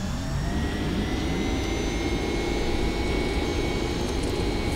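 Boeing 767 jet engines spooling at full takeoff power in X-Plane 11, a loud, steady roar with a rising whine that holds throughout and no voices.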